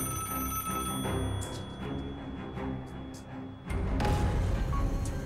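A telephone rings with repeated electronic trills, mixed with background music and voices, ending in a louder burst of noise.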